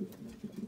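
Racing pigeons coo in a low, murmuring rumble, several birds overlapping close by in a short, steady burst with no voices.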